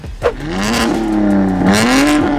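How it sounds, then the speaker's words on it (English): A BMW M3 G81 with a bi-turbo 3-liter inline six of about 550 horsepower revs up close and loud, its pitch rising and wavering as the throttle is worked, after a short sharp knock at the start. "This car features a bi-turbo 3-liter inline 6-cylinder engine pushing around 550 horsepower to all four wheels."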